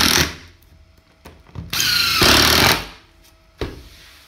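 Power drill driving fasteners into wooden boards: several short bursts of whirring, one long loud run in the middle and a brief final burst, close by with quiet gaps between.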